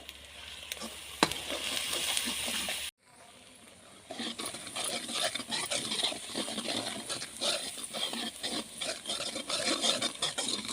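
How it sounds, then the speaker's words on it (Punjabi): Turmeric and homemade spice masala roasting in a pan, with a continuous close sizzle and crackle, briefly cut off before resuming steadily with stirring. "ਹੁਣ ਇਹਨੂੰ ਆਪਾਂ ਚੰਗੀ ਤਰ੍ਹਾਂ ਭੁੰਨ ਲਾਂਗੇ"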